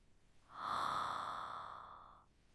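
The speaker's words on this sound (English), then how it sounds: "I yawn loudly." A single long, loud yawn from one person waking up in bed, rising into a drawn-out voiced tone that holds for over a second and then fades, close and alone.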